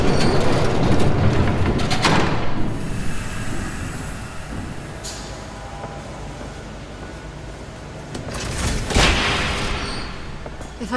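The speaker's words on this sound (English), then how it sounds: "There's a train coming." A train rumbles past at close range, a loud sustained roar with rising swells and metallic rattling of railcars, swelling again toward the end, with no speech over it.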